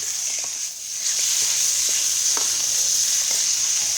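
Thai garlic stir-fried in a pan gives a steady, close sizzle with scattered light scrapes and taps of stirring throughout, with no voices.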